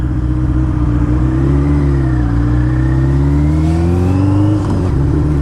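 A 1985 Kawasaki GPZ 900 R motorcycle with a 908 cc engine revs loud and close, its pitch rising and falling in smooth sweeps throughout, with no voices over it.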